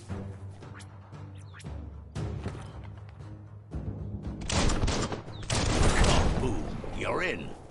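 Gunfire and a blast from shooting in the video game Biomutant: bursts of shots and sharp cracks building into louder, denser firing near the end, with a voice speaking over the action.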